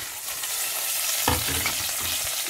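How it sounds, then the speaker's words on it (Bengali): Chicken gizzard fries with onion, garlic, ginger, coriander and bay leaf in a pan, a close continuous sizzle with a brief stirring scrape midway. "রসুন, আদা, ধনিয়া, তেজপাতা, তারপরে এভাবে আপনারা আগে ভুনাবেন এটাকে।"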